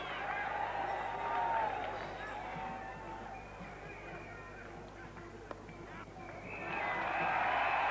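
A cricket crowd at a 1990 West Indies versus England Test match in Barbados cheers and applauds, a broad wash of distant voices and clapping that swells and fades under commentary.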